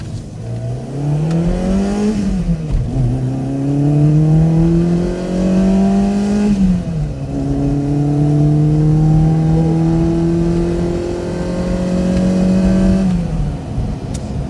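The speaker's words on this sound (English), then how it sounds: "let's see how that little engine feels when we take it through the gears" A small pushrod engine in a 1977 Autobianchi A112 revs up repeatedly, climbing in pitch through several gears with brief dips at each shift, loud and close from inside the car.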